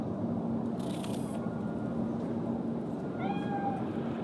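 A cat meows in the video game Cyberpunk 2077, a single drawn-out meow near the end over a steady ambient background hum, preceded by a brief rustling burst.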